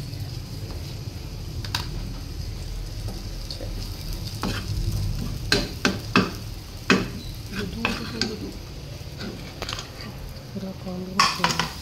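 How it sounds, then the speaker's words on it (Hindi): Food being lightly roasted in a pan is stirred with a utensil, giving a steady close sizzle broken by sharp clinks and scrapes against the pan that grow more frequent toward the end. "अब इसको हम लोगों ने हल्का हल्का जो है ना इसकी भुनाई करनी है।"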